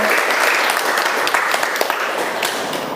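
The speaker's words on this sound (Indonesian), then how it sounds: "Kita berikan aplaus dulu" A classroom full of people applauding together, dense continuous clapping close by that holds steady for the whole stretch with a few louder individual claps.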